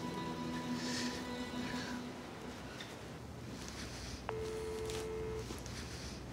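Telephone tones sound while a call is being placed: steady electronic tones come early, then a single clear beep tone later, all over a low background hum, with no talking.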